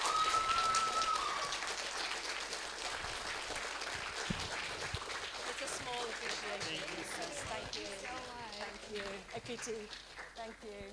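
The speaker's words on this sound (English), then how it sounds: "Please stand up for one last time and give them a round of applause to express your appreciation" A round of applause from a standing audience at a young leadership program awards ceremony, loud at first and fading as a voice begins speaking over it.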